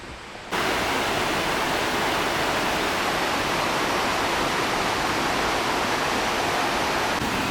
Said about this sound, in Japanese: あ、滝がいっぱいあるんだ。